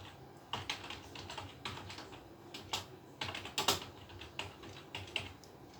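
Fingers tap out a word on a computer keyboard with quiet, uneven clicks, spaced in short bursts with brief pauses between them.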